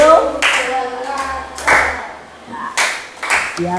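An elementary school class claps in short grouped bursts following a teacher's counted clap routine, sharp, close claps alternating with a voice calling out between rounds.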